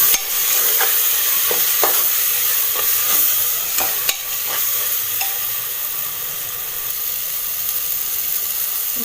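Chicken pulimunchi stirred in a pan with homemade pulimunchi powder, a steady sizzle and fry hiss with scattered spoon scrapes and knocks against the pan.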